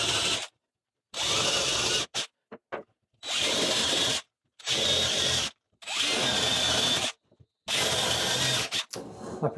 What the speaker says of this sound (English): And we just countersink.